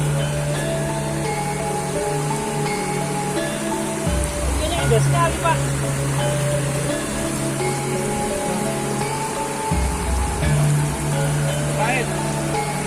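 A forest river rushes with a steady broadband wash of flowing water throughout, while people talk over it and low rumbles come and go.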